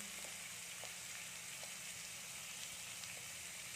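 Potatoes fry in oil with turmeric and salt, giving a soft, even crackle and sizzle that stays faint and continuous throughout.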